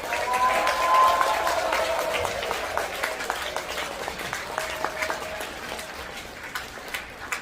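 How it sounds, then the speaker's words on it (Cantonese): Wedding guests applaud the couple at a banquet, a soft, fairly distant patter of many hands that starts fuller and thins out over several seconds. "今日咁大家都再俾啲掌聲兩位先。"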